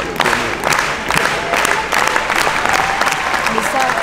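A large crowd at Puy du Fou applauds without pause, loud dense clapping sustained throughout with a busy murmur of voices underneath.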